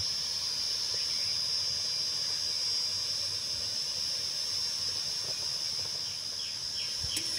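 Peanut jhuri frying in oil over low heat: a steady high sizzling hiss runs unbroken throughout, with faint crackles and small pops scattered on top. No talking.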